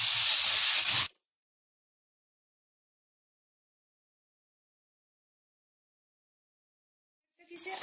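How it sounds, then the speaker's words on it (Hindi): Cut idli pieces fry in a pan with a bright, steady hiss of sizzling oil for about a second, then silence, and the sizzle returns faintly at the very end. "इसे अच्छे से फ्राई कर लेंगे।"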